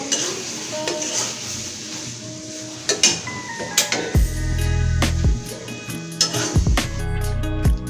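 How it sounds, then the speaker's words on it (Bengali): Taro greens with shrimp are stirred in a pan: a spoon scrapes and clinks against the metal in irregular strokes, over a soft sizzle of frying, close and clear. "এখন আমি নাড়াচাড়া করব।"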